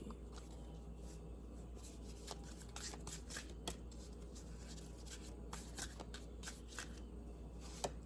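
A Fairy Tarot card deck is shuffled in quiet, steady riffling and sliding bursts of card rustle, close up and soft, with no talking.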